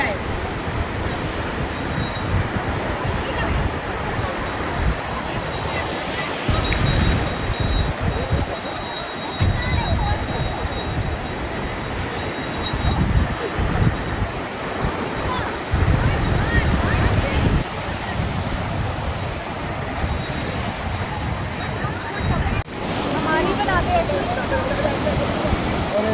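Strong sea waves surge and crash continuously at close range, with a broad steady roar, wind buffeting the microphone and occasional voices talking over it.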